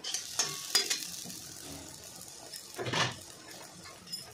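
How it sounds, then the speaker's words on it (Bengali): Gola roti with egg frying in oil in a pan, with a low sizzle, a few sharp spatula taps and one brief louder burst as it is flipped. "দেখুন এইভাবে ভাজা করে এপিট ওপিট করে ভাজতে হবে।"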